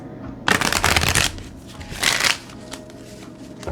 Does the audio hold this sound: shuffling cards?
yes